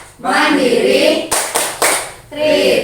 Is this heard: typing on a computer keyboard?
no